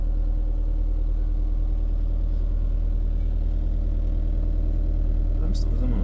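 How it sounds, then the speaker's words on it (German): A car engine idles steadily at high altitude on the Bolivian Altiplano, a low constant rumble with a faint brief sound near the end. "Der Motor läuft seit 29 Minuten."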